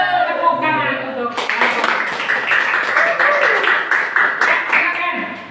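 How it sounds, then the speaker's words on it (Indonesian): Students in a vocational high school classroom in Cirebon break into brisk clapping, a dense close burst of hand claps following a short stretch of the teacher talking. "Tepuk tangan untuk"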